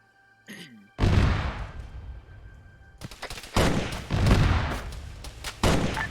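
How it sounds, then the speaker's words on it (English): Gunfire rings out during a night patrol in the Arma OPTRE mod: loud, close bursts of rifle shots with rolling echoes, sometimes rapid, sometimes single cracks, spread over several seconds, with a short electronic radio beep just before the first volley. "They're shooting at this poor sod."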